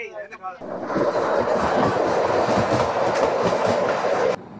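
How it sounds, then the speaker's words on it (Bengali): Kalka–Shimla narrow-gauge toy train, the Him Darshan Express vista dome service, running on its rails: a steady, loud rumbling roll with rhythmic wheel clatter that fills the clip after a brief quieter start, then cuts off near the end. "গাড়ি বলে ঝুক ঝুক ঝুক ঝুক, স্টেশন বলে রুক রুক রুক রুক।"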